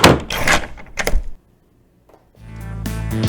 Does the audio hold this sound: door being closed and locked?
yes